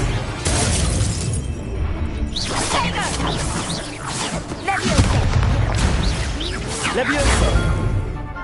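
Spell effects in the video game Hogwarts Legacy, including Stupefy, burst out as loud whooshes, crackling impacts and shattering blasts in dense succession, with a person shouting over the combat.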